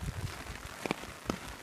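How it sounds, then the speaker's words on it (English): Soft, faint rain patters on an umbrella overhead while walking the Camino de Santiago, scattered irregular taps and a couple of sharper drops over a low background hiss. "Well, the rain got worse"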